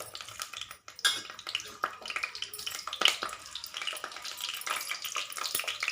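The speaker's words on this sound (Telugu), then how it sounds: "కొంచెం కాగిన తర్వాత వెల్లుల్లిపాయలు గుడ్లు అండి చూడండి" Garlic cloves frying in hot ghee in a pan for a sesame-cake curry, giving a steady close crackling sizzle throughout, broken by sharp clinks and scrapes of a spoon stirring against the pan.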